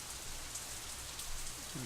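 Steady rain falls as a sound effect in the visual novel game Katawa Shoujo, making a dense, even hiss of drops with no breaks.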